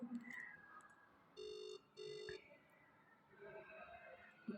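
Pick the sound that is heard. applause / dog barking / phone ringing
phone ringing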